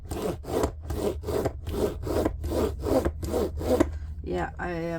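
A nail drill roller scrapes across worn-down fingernails in about eight rhythmic rasping strokes, close and steady, followed by a brief higher-pitched whine at the end.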